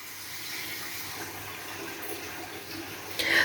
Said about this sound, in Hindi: अब इसके अंदर हम डालते हैं पानी।